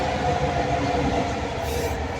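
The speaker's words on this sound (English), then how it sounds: "The train?" A train passes with a steady, close rumble of wheels and carriages that fills the whole stretch at an even loudness, and no voices are heard.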